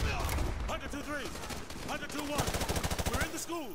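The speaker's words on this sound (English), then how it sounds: "I'm shooting the wrong person." Gunfire in the video game Modern Warfare 2 rattles in rapid automatic bursts and scattered single shots, loud and close, while someone talks over the shooting.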